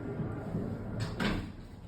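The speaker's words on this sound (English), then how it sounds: "there is a very, very large barn door, if you could see. So we'll open it." A very large sliding barn door in a Disney Coronado Springs Resort hotel room is rolled open, with two short scraping rumbles in quick succession over a steady low background hum.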